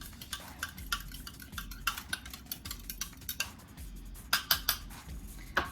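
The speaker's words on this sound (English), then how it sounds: "I'm just gonna mix it up a little bit just to kind of incorporate everything as much as I can." Spoon or whisk stirring a bread pudding mixture with vanilla in a bowl, a steady run of light scraping and clinking strokes against the bowl, with a few sharper taps near the end; no talking.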